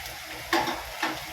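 Tomatoes tipped into a pan of softened vegetables for a Tamil-style kuzhambu and stirred, giving two brief close scraping swishes over a steady sizzle.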